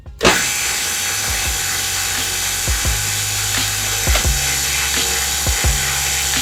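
A mandrel bender forms 1.5-inch, .065-wall 304L stainless steel tube, giving a steady mechanical hum with repeated creaks and groans as the bend is completed.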